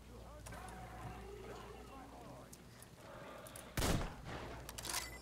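Gunfire in the shooter game Metro Exodus, a loud sharp burst near the four-second mark standing out over a steady game soundscape with fainter shots before and after.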